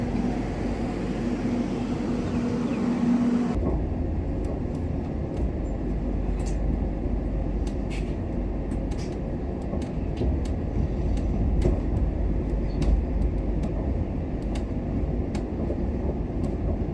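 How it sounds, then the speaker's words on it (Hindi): The Udyan Express rolls into Daund station with a loud, steady rumble of rail cars and wheels and a low drone that drops off early, then repeated sharp clicks of wheels over track joints as it slows. "हम लोग की ट्रेन आके खड़ी है दाउंद स्टेशन पे"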